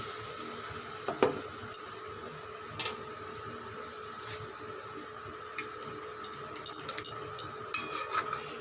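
Bele fish frying and simmering in a pan with a little water and two whole green chillies, a steady soft sizzle with occasional clinks and stirring taps, no talking.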